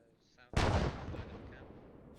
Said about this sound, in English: IDF, indirect fire.